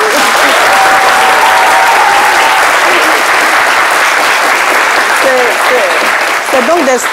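A studio audience breaks into loud, sustained applause, with voices and whistles mixed into the clapping throughout.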